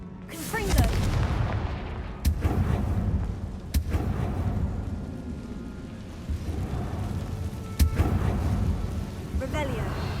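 Loud booming blasts from a Harry Potter video game's Confringo blasting spell burst out several times over a dense, rumbling backdrop of game effects, with sharp impacts standing out amid the din.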